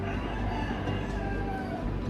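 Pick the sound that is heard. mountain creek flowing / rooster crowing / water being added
rooster crowing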